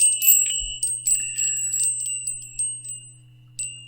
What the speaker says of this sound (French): je me suis acheté des cloches